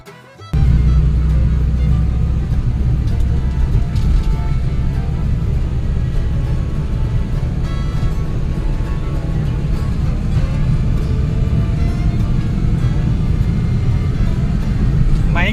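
Steady, loud low rumble of a classic manual-transmission sedan's engine and road noise on a test drive in Phetchabun province, Thailand, heard continuously from inside the car after a brief quiet start.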